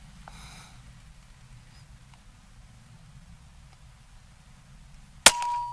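A single sharp shot from an Air Venturi Bullpup .22 air rifle near the end, preceded by quiet room tone and a faint click, followed by a brief ringing tone.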